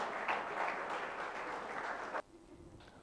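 Audience applause at a project competition prize distribution, a dense steady burst of clapping that cuts off abruptly near the end, leaving a quieter room.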